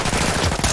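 Rapid automatic assault rifle fire in a video game, a dense loud burst of fast repeated shots filling the whole brief moment.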